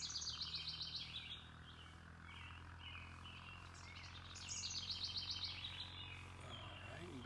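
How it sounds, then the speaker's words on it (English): Small birds chirp and trill outdoors in quick repeated bursts, fairly faint over a low steady background hum, with no talking. "I'm hearing a few birds talking to us."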